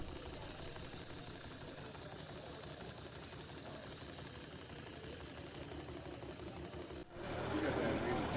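A small coreless model engine at a model engineering expo runs steadily with a continuous buzzing hum, then shifts abruptly to a rougher, louder rumble near the end.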